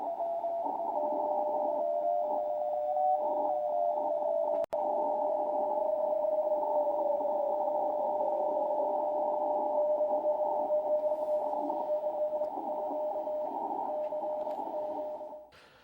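CW spot tone from a Ten Tec Orion transceiver, a steady pure whistle held for about fifteen seconds with its pitch shifting slightly, one sharp click partway through, ending abruptly.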